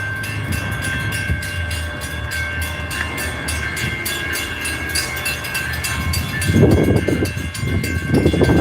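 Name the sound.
train arriving and stopping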